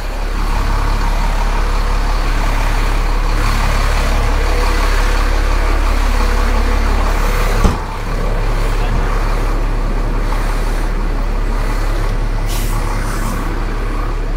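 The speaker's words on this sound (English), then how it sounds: "have a look at all the fire trucks out on the road as well" Fire trucks and heavy vehicles rumble along a rain-soaked Sydney city street, a steady low engine drone with an air-brake hiss midway and traffic noise throughout, with faint voices in the background.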